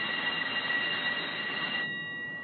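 A train rolls along with a steady metallic rumble and a high, sustained wheel squeal that abruptly thins out near the end, no voices.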